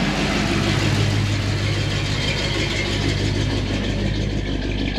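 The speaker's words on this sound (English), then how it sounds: "All of that idle stuff and putting around really gives this thing a way more ferocious sound than it is." A Chevy squarebody truck with a Flowmaster American dual exhaust rumbles steadily while driving, a loud, continuous low-pitched engine drone with rough exhaust pulses and no pauses.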